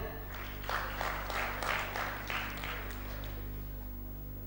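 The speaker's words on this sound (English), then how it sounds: "can we all clap for them?" An audience at a business convention in Lahore claps in a series of rhythmic bursts over a constant low electrical hum, with the clapping moderately loud and settling toward the end.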